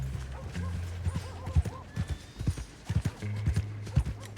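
Horse hooves clip-clop at a steady gallop in Red Dead Redemption 2, with a brief whinny, loud and close, accompanied by low rumbling game ambience.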